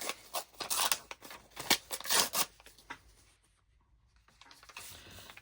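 Paper strips torn by hand for a craft project, a series of crisp close ripping and rustling bursts that fade into quiet handling noises near the end, with no talking.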